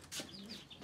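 A hen gives a brief, faint cluck, a single short call heard on its own.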